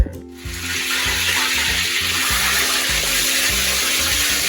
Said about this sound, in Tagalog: Ang gagawin natin ngayon ay ating ipiprito ang ating red snapper.